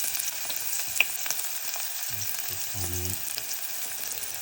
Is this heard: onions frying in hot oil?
yes